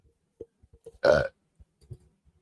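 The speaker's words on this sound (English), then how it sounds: "I got that burp in right there" A single loud, drawn-out burp of about a quarter second breaks into a quiet podcast conversation, with soft clicks and faint murmurs around it.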